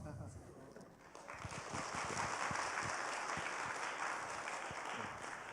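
A church congregation at a revival service breaks into applause that swells after the first second into sustained, dense clapping filling the room, with faint voices mixed in.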